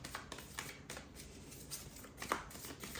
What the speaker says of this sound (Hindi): Okay, we need to shuffle more.